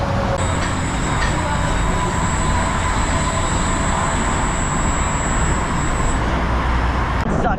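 The Steel Lasso roller coaster at Frontier City roars on its track, a steady loud rumble with a high whine holding throughout before cutting off near the end.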